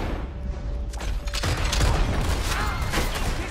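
Gunfire in the video game Red Dead Redemption 2: a burst of sharp shots and booms over a busy background of game noise, with a short tone fading out before the firing peaks.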